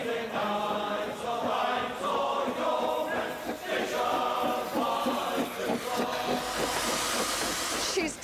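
A steam locomotive from the Ffestiniog and Welsh Highland Railway chuffs rhythmically with a continuous hiss, building to a loud, close burst of escaping steam near the end.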